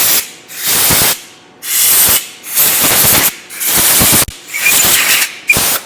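Brake cleaner hisses from an aerosol can onto a CNC-milled track adapter in five loud, steady bursts, each about a second long with short gaps between them and no voices.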